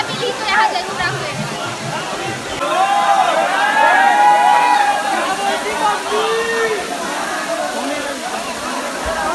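Cold water spilling down the Chingar hill waterfall in Gariaband, a steady broadband rush that swells slightly midway, with people chattering and voices overlapping throughout.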